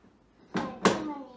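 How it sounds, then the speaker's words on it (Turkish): Two quick plastic clicks as a small red toy car door opens, close and brief in a quiet room. "Kapısı açılıyor mu?"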